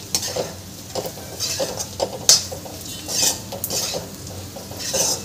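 A spoon scrapes and stirs sabudana khichdi with crushed peanuts in a pan, producing repeated close clinks and scrapes over a soft steady sizzle, with no talking.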